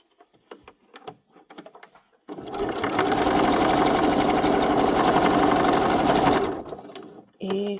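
A sewing machine tacks down loose fabric patches on an upcycled garment, running steadily at close range for about four seconds, with faint handling clicks before and a voice starting as it stops.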